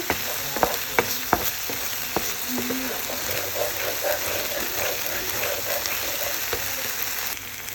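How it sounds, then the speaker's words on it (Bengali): Ground garlic, ginger, cumin and nut masala paste fries in a pan, a steady close sizzle broken by a few sharp knocks of stirring early on, with no talk. "এখন আমি মশলাটাকে কষিয়ে নিচ্ছি"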